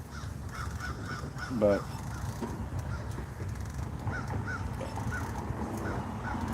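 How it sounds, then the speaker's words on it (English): Several blackbirds caw repeatedly outdoors at a middle distance, hoarse calls in short series over steady ambient noise, with a brief spoken word. "so many blackbirds today, huh?"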